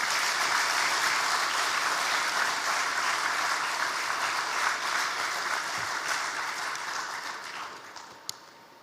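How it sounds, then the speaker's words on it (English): Audience applause at a corporate event unveiling a financial services super app, a steady broad wash of clapping that holds loud for several seconds and then slowly thins and fades, with no talking over it. "That deserves a big applause, I think."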